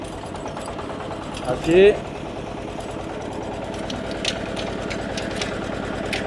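A two-wheel walk-behind farm tractor engine runs on a country road, a steady mid-pitched chugging under a voice, with a brief louder burst partway through.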